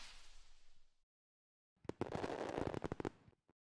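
A game's glitter firework rocket effect: a soft hissing whoosh fades out, then after a short silence a dense run of crackling sparkle pops rains down before stopping abruptly, with one last isolated crackle.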